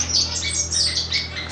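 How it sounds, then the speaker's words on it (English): A star finch calls among other finches in a home bird room, a quick run of bright squawky chirps up close, unbroken for the whole moment with no talking. "star finch"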